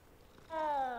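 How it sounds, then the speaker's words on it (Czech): A cat in the Hogwarts Legacy video game purring while being petted, a short close tonal purr-meow that swells in halfway through and holds steady over a quiet background. "Když mi to hezky vrnějí."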